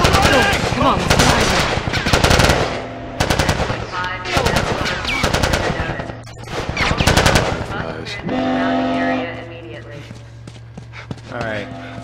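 Rapid bursts of gunfire ring out in The Last of Us on PS3, loud and close, coming in several volleys separated by short pauses, with voices talking and shouting between the shots.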